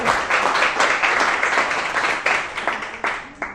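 A church congregation claps in applause, a close, dense burst of hand claps with uneven accents that gradually thins toward the end.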